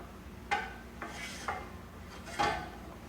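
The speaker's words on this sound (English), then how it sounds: "So as you stir, you want to scrape around the edge of the pan." Eggs stirred in a pan, a utensil scraping around the pan's edge in four or five short, quiet rasping strokes spaced about half a second apart, alone in a calm kitchen.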